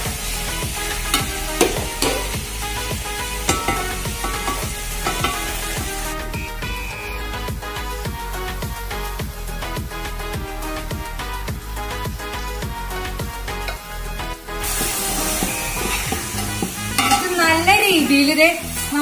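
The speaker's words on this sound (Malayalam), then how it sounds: "നല്ല രീതിയിലൂടെ ഇളക്കങ്ങട്, ഏലിക്കുട്ടികളെ ഇളക്ക്." Masala-coated chicken being stirred in a pan, sizzling and frying steadily with repeated scrapes and clinks of a utensil against the pan; busy, close and continuous, louder toward the end.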